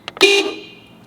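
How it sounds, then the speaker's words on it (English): A single short, loud horn honk from a Mazda RX-7 blares close up after a couple of small clicks, then fades quickly. "Little horn test."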